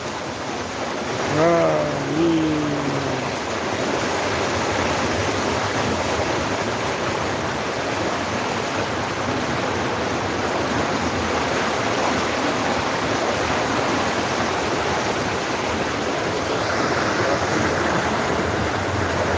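Flood water flows through the town streets of Jagannathpur, Sunamganj, as a continuous rushing wash of moving water. A voice is briefly heard near the start.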